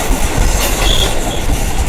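A train rumbles past at close range, a loud steady roar of wheels and rail carriages filling the whole moment with clattering noise and no voices.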